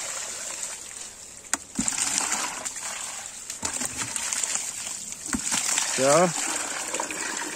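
Backwash water from a pool sand filter gushes and splashes in a steady flow, moderately loud and close, while someone speaks briefly over it.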